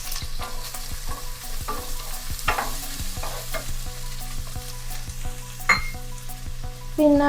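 Chopped onion frying in hot sesame oil in a non-stick pan, a steady close sizzle with repeated scraping and stirring strokes throughout, no voices.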